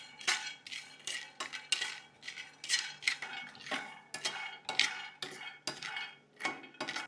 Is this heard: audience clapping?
no